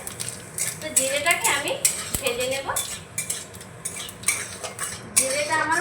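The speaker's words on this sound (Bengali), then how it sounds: "তেলের মধ্যে এখন দিয়ে দেবো আবারও গোটা জিরে এক চামচ দিয়ে দিলাম গোটা জিরে" Whole cumin seeds fry in hot oil in a wok under a light sizzle, while a metal spoon scrapes and clinks against the pan in quick, irregular strokes close by.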